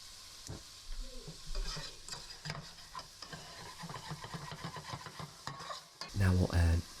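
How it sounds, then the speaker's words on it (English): Onions and garlic frying in hot oil while a spoon stirs and scrapes the pan, with a steady sizzle under clattering utensil knocks and a louder burst of scraping near the end. "take our onions and our garlic and put them into that hot oil"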